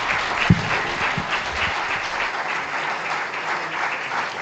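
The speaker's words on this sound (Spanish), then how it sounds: "Despedimos con este aplauso al doctor Bernardo Toro." An audience applauds after a forum talk, steady dense clapping from a crowd filling the room, fairly close and even in loudness throughout.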